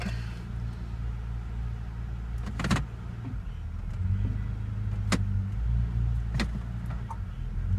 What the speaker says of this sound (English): the reason the RPMs are probably going down like that is because it's probably because the gas is old.